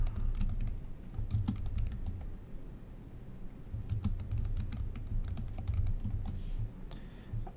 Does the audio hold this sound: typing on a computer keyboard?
yes